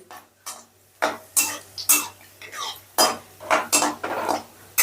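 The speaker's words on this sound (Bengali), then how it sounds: "তো গ্যাসের আঁচটা লোতে রেখে আমি কাজুটা ভেজে নিচ্ছি।" Cashews frying on low heat in a wok, heard as repeated clattering scrapes of a utensil against the pan, roughly a dozen sharp bursts in an uneven rhythm, close and fairly loud, with no talking.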